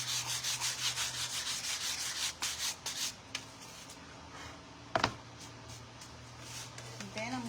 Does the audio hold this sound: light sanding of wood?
yes